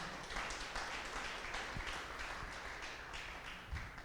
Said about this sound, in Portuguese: dê um aplauso ao Senhor no seu lugar